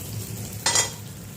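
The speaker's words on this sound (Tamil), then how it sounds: "இந்த கடுகு பொரிட்டோம். பொரிச்சு கருவேப்பிலை போட்டுக்கலாம்." Mustard seeds splutter in hot oil in a home kitchen pan, a low, steady sizzle broken by one brief, sharper crackling burst.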